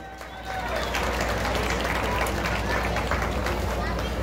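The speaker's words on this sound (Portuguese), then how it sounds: "Mais aplausos, ele merece." A crowd at a hometown civic tribute ceremony in Tiros, Minas Gerais, breaks into steady, dense applause that starts abruptly and holds loud and even, with a murmur of voices underneath.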